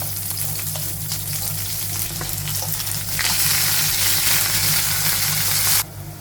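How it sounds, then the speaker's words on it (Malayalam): Green chilies, ginger and curry leaves sauté in hot oil, a loud, continuous sizzle with a few stirring knocks early on. The sizzle swells brighter midway, then drops off sharply near the end. "അപ്പോൾ നമ്മൾ പച്ചമുളകും ഇഞ്ചിയും കറിവേപ്പിലയും കൂടി ഇട്ട് വഴറ്റിയെടുത്തിട്ടുണ്ട്."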